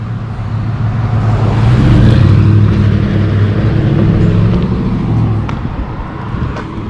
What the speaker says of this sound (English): We're gonna hop over here and wait for this car to go by